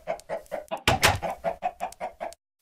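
Chickens in a video game cluck in a quick run of about ten sharp, even clucks. One louder, noisier squawk comes near the start, then the clucking stops abruptly into silence.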